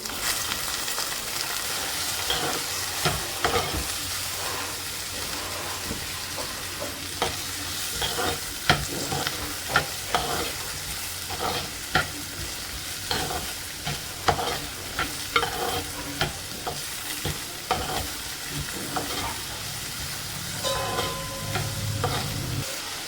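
Ginger, green chilli, curry leaves and onion sizzle steadily in a pan for a fish curry while a spoon stirs them, with frequent scraping and tapping strokes over the continuous frying hiss, close and moderately loud.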